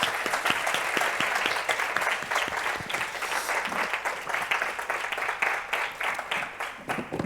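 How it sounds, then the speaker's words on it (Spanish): A strong, sustained round of applause from a congress audience for the organizing committee, dense clapping throughout with sharper individual claps standing out, continuing evenly for several seconds. "pediros que os unáis a un fuerte aplauso para felicitar a la comisión organizadora del Congreso"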